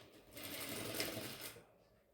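A sewing machine stitches baby vest fabric in one short, fast whirring run, close and clear, rising and fading over about two seconds.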